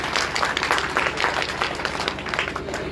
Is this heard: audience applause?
yes